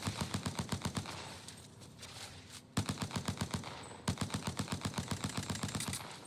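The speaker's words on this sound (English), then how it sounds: "They're shooting at me." Rapid automatic gunfire from the video game Apex Legends, fast rhythmic bursts of shots in several strings with short breaks between them, moderately loud and sharp.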